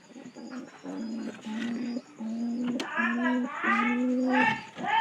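Pigeons coo in repeated low, throaty rolling phrases, close and fairly loud, with one bird answering another in quick succession and a brief bright chirp partway through.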